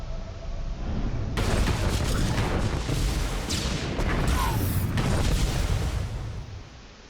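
A large explosion tears through a data center in a Star Wars video game: a loud, sustained roaring blast with crackling debris that swells after a quiet start and then fades out.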